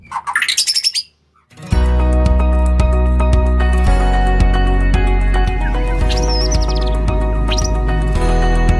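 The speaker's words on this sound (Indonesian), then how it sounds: "di video kali ini kita kedatangan murai batu ya" Loud, close song of a white-rumped shama: rich whistled phrases and sharp chirps repeating over several seconds, preceded by a brief squeaky burst and a short silence.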